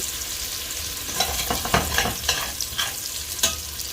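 Spoon scraping browned bits from the bottom of a braising pot of meatballs, with garlic frying; intermittent scrapes and stirring strokes over a steady sizzle, close and moderately loud.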